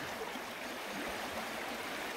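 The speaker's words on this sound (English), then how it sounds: "there's the upper reaches of the River Clun heading down the valley there" Upper reaches of the River Clun flowing down a valley, a steady, even rush of water that runs unbroken and fairly quiet throughout, with no voices.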